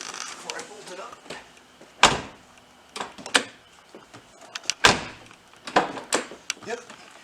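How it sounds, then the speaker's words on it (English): The driver's door of a 2006 Porsche Cayenne is tried during interior panel work, giving several sharp latch clunks and thuds amid softer handling clicks and rustling, close up and spread across the moment. "Let's try the door before I bolt it up."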